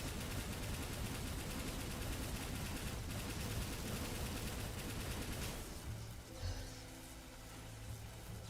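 Dense, continuous gunfire from the side-scrolling action game Ender Magnolia fills most of the stretch at steady loudness, then thins into quieter game sounds and effects near the end.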